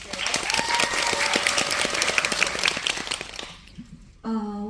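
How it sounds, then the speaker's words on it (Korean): Audience applause at a film screening Q&A event, a dense sustained round of clapping that fills the room for about four seconds and then fades out before a voice starts speaking. "박수 한번 주세요."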